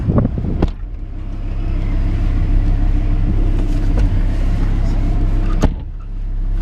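Lamborghini Huracan driving through Monaco, a loud steady low engine drone heard from inside the car, with a couple of sharp knocks at the start and near the end.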